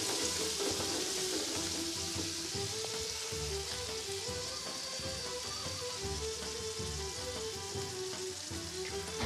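Meat frying in an uncoated pan after water and wine have been added to it: a dense, continuous sizzle and crackle heard up close and fairly loud throughout, with no voices.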